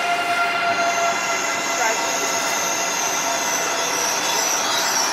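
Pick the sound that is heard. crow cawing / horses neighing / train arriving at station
train arriving at station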